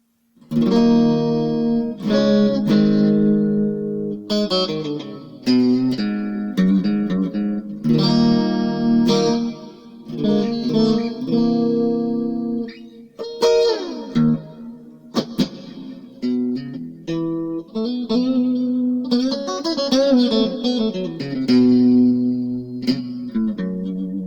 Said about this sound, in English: So here is the reverb.